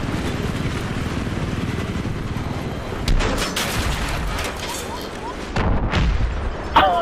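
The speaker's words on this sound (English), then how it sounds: "I jumped out and was running and the explosion killed me" An explosion in the video game Battlefield 3 during an online match: sharp broadband booms bursting out around the middle and end, mixed with gunfire-like cracks over a steady game-noise bed.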